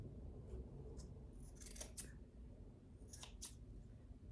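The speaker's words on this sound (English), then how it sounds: "So you just take your scissors" Scissors trim the threads of a bookmark tassel, several quick, crisp snips up close, grouped in pairs over a faint low background hum.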